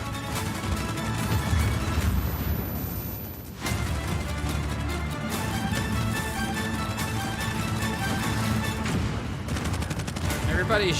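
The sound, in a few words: gunfire in a video game trailer at PC Gaming Show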